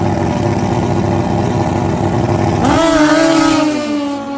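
Turbo nitrous street-style drag race motorcycles such as the ZX-14 roar at idle on the line, then launch hard with a rising engine scream that fades slightly as they pull away, with no talk.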